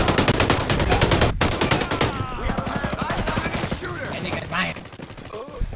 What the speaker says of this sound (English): Yes, well, someone started shooting.